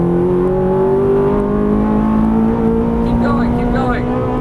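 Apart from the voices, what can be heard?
Ferrari 430 engine accelerating on a race track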